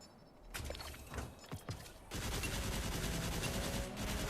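Gunfire in the Destiny video game, a few scattered shots followed by a dense, continuous burst of rapid automatic fire lasting a couple of seconds, fairly quiet and close.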